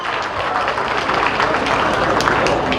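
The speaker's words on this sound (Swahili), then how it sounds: "Makofi tafadhali." Loud, steady audience applause fills a hall at a youth engagement forum in Kitui County, dense clapping sustained from start to finish with no gaps.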